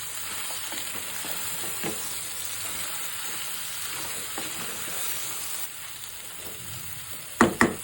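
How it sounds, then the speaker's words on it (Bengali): Diced potatoes fry with sun-dried beef in a hot pan, a steady close sizzle broken by soft scrapes of a spatula, the frying dropping a little quieter near the end before two sharp clanks. "নাড়াটা দিব, এরকম করে ভেজে নিব"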